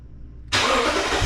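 A truck engine fires up by remote start, going from near silence to a sudden steady engine rumble that holds at idle, heard from close by.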